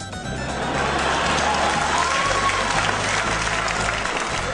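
Applause from the audience at a political committee meeting over the Michigan proposals, a dense, steady clapping that swells within the first half second and holds loud throughout, with a low hum beneath.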